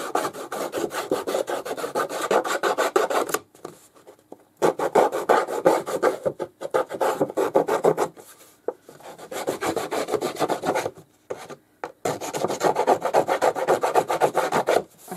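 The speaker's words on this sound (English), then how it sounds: "I think I want to distress the edges. So I have my Tim Holtz little distressing tool." Small handheld distressing tool scraping along the paper edges of a watercolor sketchbook makes loud, close, rapid rasping strokes in long runs, broken by a few brief pauses.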